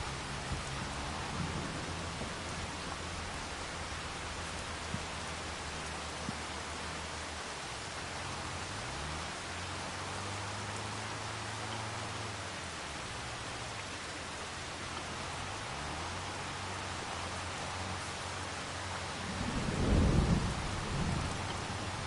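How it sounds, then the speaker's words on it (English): Rain and thunder in the farming game Farming Simulator 25, with a quiet steady patter of rain, several low rolling rumbles of thunder, and a louder crack near the end. "Uh-oh, I hear rain or thunder."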